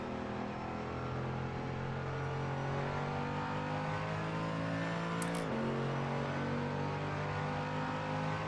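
A racing car's engine in the driving game Assetto Corsa, holding a steady high drone at speed along a straight, with a brief pitch dip as the car shifts gear midway; no talking.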